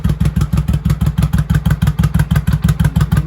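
A 1983 Honda Shadow VT750C motorcycle engine running after starting on fresh fuel, close and loud, with a steady, fast, even chugging pulse and mechanical clatter, no voices.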